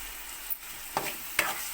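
Tomatoes go into a chicken curry in a hot pan. Faint sizzling runs under a few sharp stirring scrapes and clacks, spaced a moment apart, with no one speaking.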